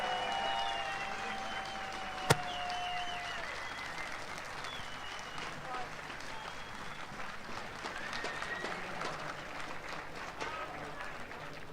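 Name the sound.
audience applause for CS:GO tournament winners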